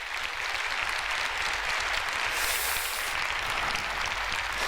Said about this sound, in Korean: 감사의 박수를 한번 올리도록 하겠습니다